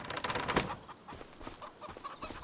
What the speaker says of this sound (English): gotta get through there before the chickens get out.